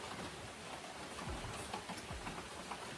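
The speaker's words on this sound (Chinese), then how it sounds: "这雨还一直哗哗的下个不停" Steady hiss of rain falling outside a rural house during a storm, a continuous wash of sound with scattered drops, fairly quiet and without speech.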